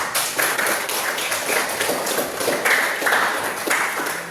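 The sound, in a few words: classroom applause for a student group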